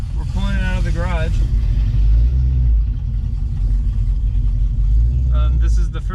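A 1977 Nova with a Summit exhaust kit rumbles deep and steady as it pulls out of a garage, its low throb continuous beneath intermittent talking.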